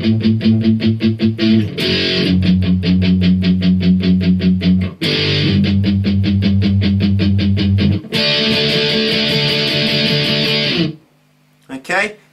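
Electric guitar plays the verse of a song in steady, chugging chord rhythms that shift through several sections, loud and alone, ending in a brief pause and a couple of final notes.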